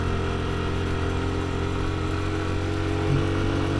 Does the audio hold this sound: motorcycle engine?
yes